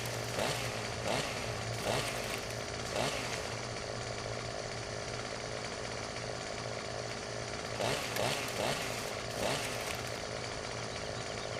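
A chainsaw trims tree limbs in the video game Farming Simulator 17, droning continuously at close range with periodic revving surges as it cuts.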